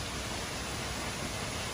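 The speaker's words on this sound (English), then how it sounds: "there's the second waterfall." A waterfall along a day trip route in West Virginia gives a steady, broadband rush of falling water, even and continuous throughout, with no voices.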